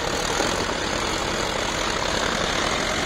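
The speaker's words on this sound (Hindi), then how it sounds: "महिंद्रा का ट्रैक्टर ईवोटेक प्लस आगे बढ़ता हुआ" A Mahindra Yuvo Tech Plus tractor engine drones steadily and loudly during a field demo, a continuous close diesel rumble with no voices.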